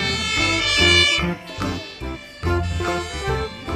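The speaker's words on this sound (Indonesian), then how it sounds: "Ini ada truk pemadam kebakaran juga" A toy fire truck sounds an electronic siren melody in short rising and falling bursts, loud and near, with brief gaps between phrases.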